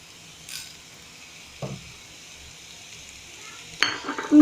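A spoon stirring spiced potato samosa filling with masala in a pan, a few soft scraping strokes and a light sizzle, quiet with a louder clatter near the end, no talk.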